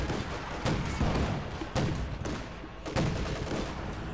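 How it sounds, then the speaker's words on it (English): Flak Panzer firing in Company of Heroes 2, a 1v1 match: repeated heavy cannon bursts arriving every second or so in loud blasts over a dense, rumbling battle din. "Some excellent hits there from the Flak Panzer"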